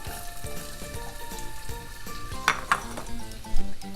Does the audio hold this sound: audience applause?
no